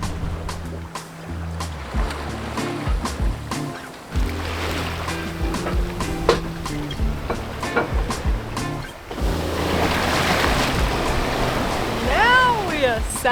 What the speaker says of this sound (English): Now we are sailing.